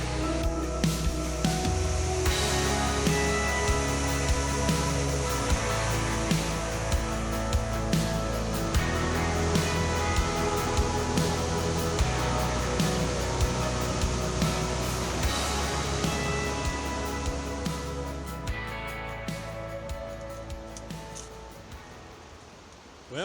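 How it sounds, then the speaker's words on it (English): Continuous loud rushing whitewater from East Fork river rapids and waterfalls along a backpacking trail on the Art Loeb loop, a steady broadband roar filling the scene for the whole stretch, easing slightly toward the end. "A lot of beautiful whitewater, some waterfalls"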